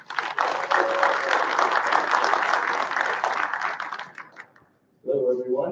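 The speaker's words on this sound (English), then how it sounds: "I'd like a huge round of applause for Marino" Conference audience at DevOpsDays Raleigh applauding loudly and steadily for several seconds, dense clapping fading out before a voice begins speaking.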